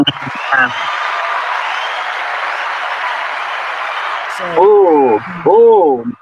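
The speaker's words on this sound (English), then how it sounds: "Let's give him a extended round of applause." An interview audience gives an extended round of applause: a dense, steady wash of clapping lasting about four seconds, with a brief voice just before and talking resuming right after.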